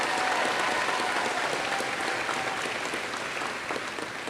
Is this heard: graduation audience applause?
yes